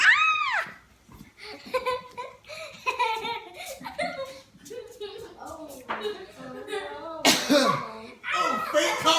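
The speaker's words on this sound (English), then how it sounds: "Oh, fake cough." A man gives a few exaggerated fake coughs amid a son's high giggles and laughter, with voices chatting throughout.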